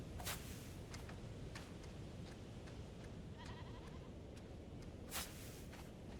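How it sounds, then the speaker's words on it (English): Sheep bleating on a floating island in the game Aloft, several short distant bleats scattered over a steady ambient wind bed, with one louder call near the end. "How many sheep are on this island?"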